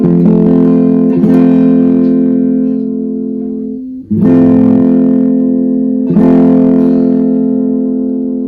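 A guitar chord strummed from the 4th string down, played three times in a row, each strum ringing out loudly and sustaining before the next.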